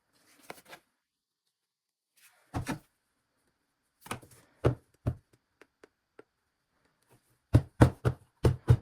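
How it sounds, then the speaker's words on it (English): Wet concrete is banged down into a vessel mold, giving sharp knocking thuds in scattered single hits and then a quick run of five or six loud bangs near the end, with silence between. "start banging it down so it goes into the bottom of the mold"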